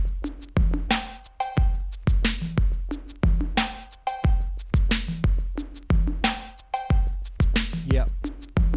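Roland TR-808 drum machine sample called Triggerman 02, a looping beat of booming kick hits with a sharp, reverb-drenched percussive snap, evenly spaced and loud, with no voices.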